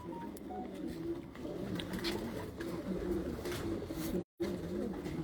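On a rooftop, a high-flying pigeon coos in low, repeated throaty calls over a steady background hum, broken briefly by a moment of silence near the end.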